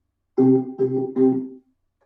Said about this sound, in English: I put decay on it.